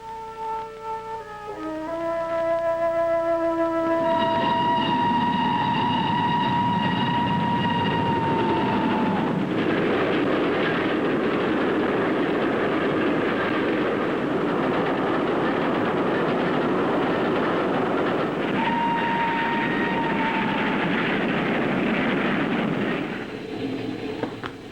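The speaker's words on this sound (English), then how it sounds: "The connecting train for Cruton is due in 7 minutes." Connecting train at a station in 1961, a loud continuous roar and rumble of the train passing close by, with a sustained horn tone at the start and again later, then fading at the end.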